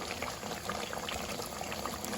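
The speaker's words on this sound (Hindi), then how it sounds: "तो इसके लिए मैं डाल देती हूँ इसमें 1 गिलास पानी" A glass of water is poured into mutton pasanda, an Old Delhi style meat dish cooking in a pot. A soft, continuous watery splash and bubbling runs steadily throughout, fairly faint, with no talking.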